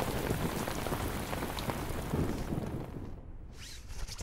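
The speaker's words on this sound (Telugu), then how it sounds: "ఏంటి సార్ మీరు లెక్క పెట్టగానే వర్షం ఆగిపోయింది?" Steady rain pattering on surfaces, a dense close hiss with scattered drop impacts that thins slightly toward the end.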